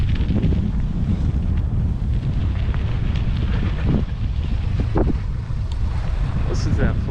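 Steady rushing creek water swollen by rain fills the scene, a continuous broadband flow with gusty wind buffeting the microphone.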